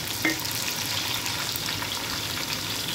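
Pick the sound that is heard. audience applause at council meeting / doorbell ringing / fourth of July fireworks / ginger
ginger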